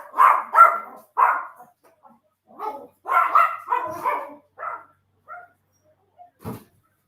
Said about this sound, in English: My dogs are crying to go outside.